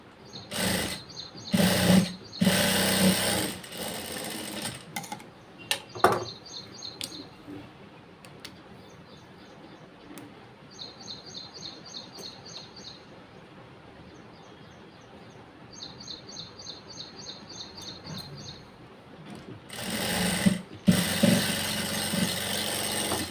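Sewing machine stitching the open side of a double-layer blouse piece, with short bursts of rapid mechanical chatter between quieter pauses and a few louder broadband thumps near the start and end.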